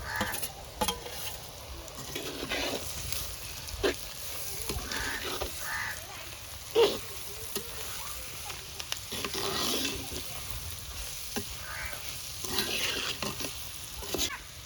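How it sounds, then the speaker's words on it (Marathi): Tender jackfruit mixed with spices is stirred and sautéed with onion in a pan, giving a soft steady sizzle with intermittent scraping and stirring clatter, fairly quiet and close. "आता ह्याच्यामध्ये आपण मसाले मिक्स केलेली भाजी ॲड करूया आणि चांगली परतून घेऊया"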